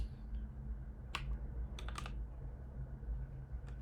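A few soft keystrokes on a computer keyboard sound in a short cluster near the middle, faint over a steady low background hum.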